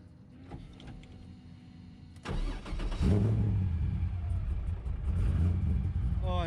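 A drift car engine, fitted with a muffler, cranks over and fires up about two seconds in, then settles into a loud, steady idle with a little revving, close by and with no talk over it.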